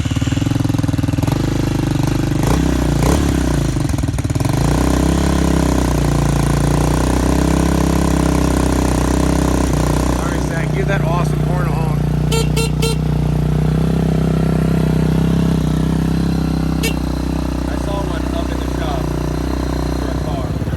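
A Hawk 250 motorcycle engine idles loudly and steadily up close, with a brief rev and some clanking partway through; people talk over it.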